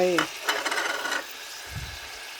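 Spring onions and chili go into a pot of bamboo shoot curry with cartilage, giving a brief rough stirring scrape with a light sizzle, followed by a soft low thump.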